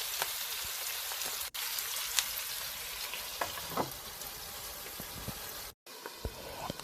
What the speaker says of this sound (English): Once the oil is hot, add the meatballs and cover the pan with a lid.